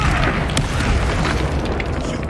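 A Confringo spell explosion erupts in Hogwarts Legacy combat, a loud dense blast and rumble filling the short moment with crackling bursts layered on top and no gap of quiet.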